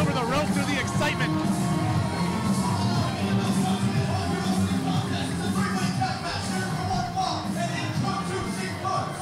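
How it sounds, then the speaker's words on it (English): A packed, loud wrestling crowd roars and cheers continuously in a noisy room during a live show, a thick wall of voices and shouting that never lets up. "it's a hot crowd as you can hear"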